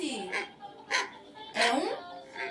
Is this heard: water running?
no